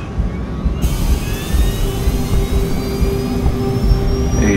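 Twin turbofan engines of a Hughes Air West DC-9 roll for takeoff from Los Angeles, a steady broadband roar with rising whine tones that builds over a few seconds, loud and continuous.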